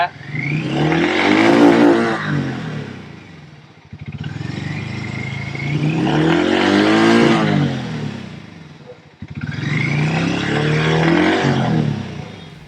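A 440cc cruiser-type motorcycle engine, a Hero Mavrick 440 or Harley X440, is revved three times, each blip climbing to a loud rasping peak before dropping back to idle, close by and alone.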